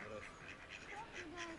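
A duck quacks faintly several times at a lake near Sochi, short nasal calls spread across the moment over a steady outdoor background.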